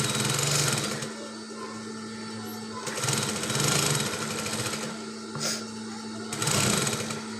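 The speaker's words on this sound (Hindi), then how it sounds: "ये हम पहली वाली सिलाई लगा रहे हैं।" A domestic sewing machine runs in several short bursts, stitching elastic onto a small baby summer frock, with a steady mechanical whir and hum that pauses and restarts at close range.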